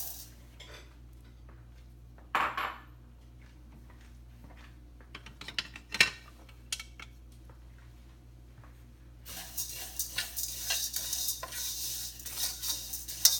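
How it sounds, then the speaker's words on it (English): Fideo noodles fry and brown in olive oil with a few sharp utensil clinks and scrapes against the pan, then a loud, steady sizzle rises as they cook. "we're gonna fry the noodles"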